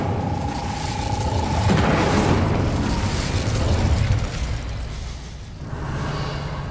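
Incendio fire spell cast in Hogwarts Legacy: a whooshing burst of flame with a booming rumble that swells early, then tapers into a crackling tail, fairly loud and close.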